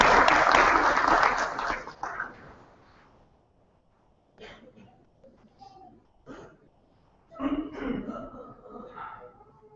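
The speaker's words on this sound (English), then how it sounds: "Please give a big round of applause to Dr. Ricardo." Applause from a convocation audience opens loud and fades away within about three seconds, followed by quiet and then someone speaking.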